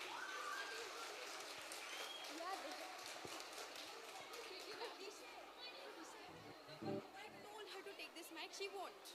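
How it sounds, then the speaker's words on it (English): An audience applauds for a school team at a centenary celebration, a sustained wash of many hands clapping in a large space with chatter mixed in, heard from a distance and fairly faint. "a round of applause to the team for wonderfully showcasing the story of our school"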